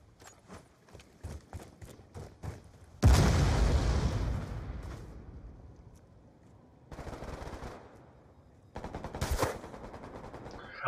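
Gunfire in a Call of Duty: Black Ops 2 multiplayer match: sharp separate shots, then a loud blast around three seconds with trailing rumble, followed by further rapid automatic bursts, near and punchy.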